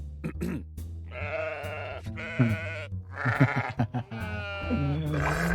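Cartoon sheep bleating repeatedly in a wavering, nasal way, close and fairly loud, with other animated animal grunts and noises mixed in, at a scene set during the Pig War.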